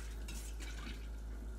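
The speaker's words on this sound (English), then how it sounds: "I'm basically just going to keep stirring" A spoon stirs coconut milk in a pot, making soft repeated scraping and swishing strokes against the pot, quiet and close, with no speech.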